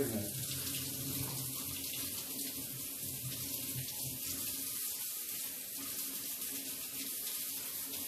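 Running tap water pours steadily in a kitchen sink while a cleaver is washed during dumpling making, a continuous close hiss with faint clinks underneath.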